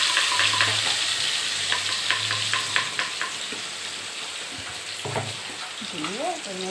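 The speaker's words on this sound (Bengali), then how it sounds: "এই বাটাটা এবার এই তেলের মধ্যে" A paste of ground mustard and poppy seeds hits hot oil and fries with a steady close hiss, while a spoon clinks and stirs it in bursts and a brief tonal sound rises near the end.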